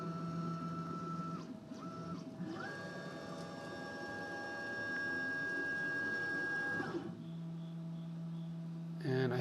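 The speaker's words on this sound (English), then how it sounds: "I think it's going to come down and touch that pad so it knows what the Z height of the spindle is." A Makera Carvera Air CNC machine moves its spindle down to touch a probe pad, giving a steady electronic motor whine with sustained tonal lines that shift pitch, over a constant low hum.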